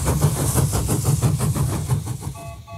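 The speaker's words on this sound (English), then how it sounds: "The train's slowing down." A rhythmic chugging of a cartoon train engine slowing down, regular puffs repeating loudly and gradually fading toward the end.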